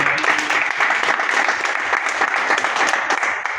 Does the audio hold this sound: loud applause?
yes